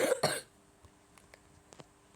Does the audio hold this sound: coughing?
yes